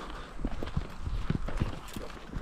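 Docile horses walk a narrow path in the Uruguayan countryside, their hooves clip-clopping in an uneven, close rhythm of several soft thuds with no talking.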